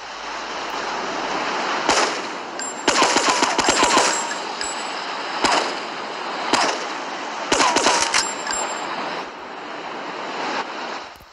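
Mac 10 submachine gun fires in the GTA 3 video game in several rapid bursts over a steady noisy game background, loud and close.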